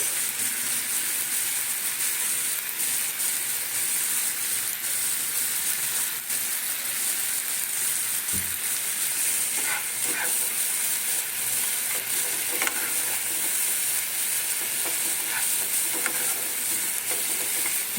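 Spice masala with chilli and coriander powder stir-fried in a pan, a steady broadband sizzle throughout with a few scraping stirs of the spoon, close and fairly loud.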